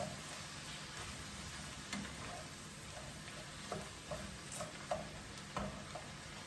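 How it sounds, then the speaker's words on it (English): Cabbage sizzles in a hot pan while being stirred, a steady frying hiss broken by several soft scraping and tossing knocks spread through the clip, with no talking. "Now I'm gonna add my cabbage in. I add a little, then I mix."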